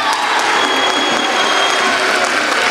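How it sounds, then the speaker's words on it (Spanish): Dense crowd applause for the mayor of Fuenlabrada at a Three Kings proclamation event, loud and continuous clapping from many hands for a few seconds. "¡Fuerte aplauso para él!"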